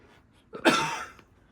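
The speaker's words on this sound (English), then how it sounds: "My hubby still has his cough." A single harsh cough bursts out close by, brief and loud against a quiet background.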